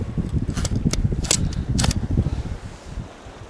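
Steady wind rushes across a beach while fishing, a broad low roar buffeting close to the microphone with gusty rises and falls, plus a few brief higher rustles or clicks near the start.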